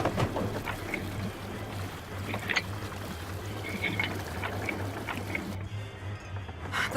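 Water rushes and trickles steadily in the Nancy Drew Sea of Darkness game, a constant wash over a low hum with scattered drips and clinks, then the flow abruptly cuts off near the end.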